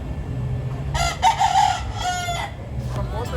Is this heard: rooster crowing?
yes